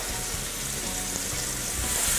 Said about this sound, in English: I'm gonna add a little more oil, and I'm gonna sear the meat to give it color.